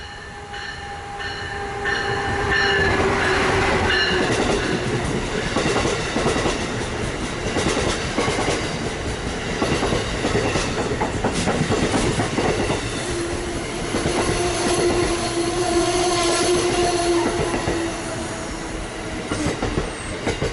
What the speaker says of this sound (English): 623 elegantly brings his train to a stop.